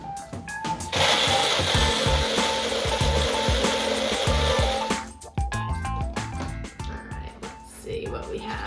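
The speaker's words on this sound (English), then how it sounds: "I'll get my blender again." A countertop blender whirs loudly and steadily for about four seconds while blending a homemade Frappuccino, then stops, leaving clattering handling noises and brief talk.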